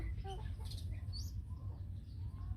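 Chickens cluck faintly in the background, with a few short, scattered calls over a steady low hum.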